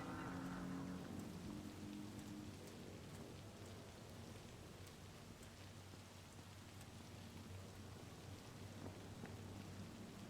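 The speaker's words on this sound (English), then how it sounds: "Hey, it's raining. I like the rain." Soft, steady rain hisses quietly throughout, with scattered light patters. It is the rain in the video game Cyberpunk 2077.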